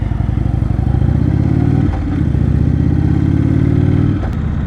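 A motorcycle engine runs steadily and loud while riding, its note dipping briefly twice as the throttle eases, with road clatter underneath and no voices.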